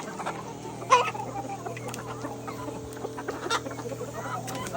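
Parent-stock chickens in a poultry breeder house cluck steadily over a constant low mechanical hum, with one sharper, louder call near the start and scattered softer clucks after.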